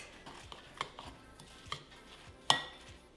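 Ground cinnamon and a pinch of salt are stirred into pie filling in a bowl: soft, sparse scrapes and light taps, then one sharper clink of utensil against bowl near the end, quiet and close.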